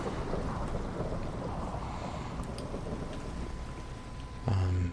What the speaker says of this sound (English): Oh, I don't really want thunder right now.